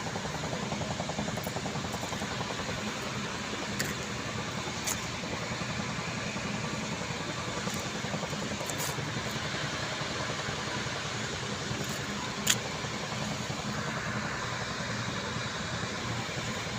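Generator engines on a rooftop run dynamos to supply electricity, giving a continuous, fairly faint mechanical hum with a steady low throb and occasional faint clicks, unbroken for the whole stretch and without talk.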